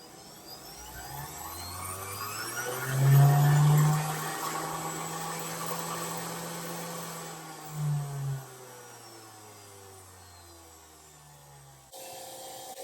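A 3 inch bench grinder with a flex shaft grinds rust off metal, giving a steady motor whine with a gritty rasp that swells and dips for about twelve seconds before cutting off.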